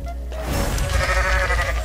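A goat in the Goat Simulator MMO video game lets out a loud, close, drawn-out bleat that fills most of the short moment.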